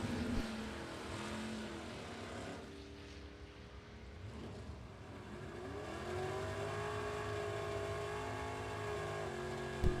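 A 1963 Nova with a 523 big block drag races a 1993 Mustang 5.0 at a Super Pro bracket event, a loud sustained engine roar whose pitch climbs steadily as the cars accelerate, heard at moderate distance with no talk.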